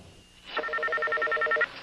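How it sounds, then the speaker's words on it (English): A cellular phone dials a call for help: a rapid run of about ten short, evenly spaced keypad tones, fairly quiet and heard alone. "When he called for help on the cellular phone, the call was routed to Monroe County dispatcher Mike Cruiser."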